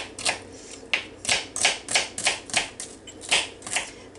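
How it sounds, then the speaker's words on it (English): A knife chops through a celery stalk on a cutting board in a run of quick, crisp cuts, close and moderately loud, with no talking. "I think I'll just go ahead and cut up the rest of this one celery"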